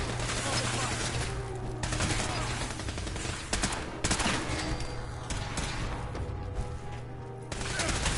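Scoped pistol fire in a modded Fallout 4 firefight, dense rapid shots and blasts packed together over a loud constant din, sounding like a sustained exchange of gunfire up close.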